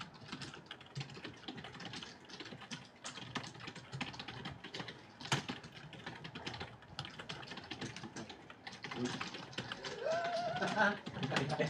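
Rapid, uneven tapping on a computer keyboard runs continuously at close range, with people talking over it and the keystrokes growing a little busier toward the end.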